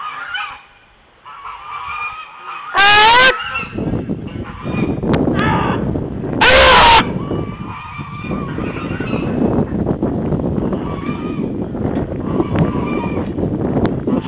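Geese honk loudly and repeatedly at close range, with two especially strong bursts among ongoing calls, while someone talks intermittently and wind and handling noise run underneath.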